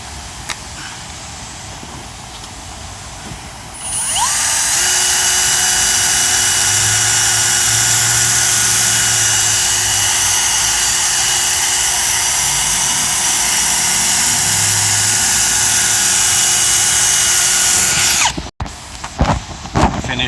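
A power sander whirs loudly and steadily against a car headlight lens during restoration, spinning up after a few seconds and holding a high constant whine before cutting off near the end.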